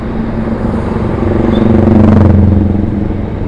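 Steady morning traffic on the Kairagi–Airmadidi road in Manado, with buses lined up outside a school: a loud low engine rumble that swells as a heavy vehicle passes close, with no talking.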